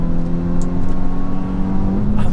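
Hyundai i20N hot hatch engine pulling hard out of a corner, a steady loud drone rising slightly in pitch as the car accelerates, close and continuous with no talk.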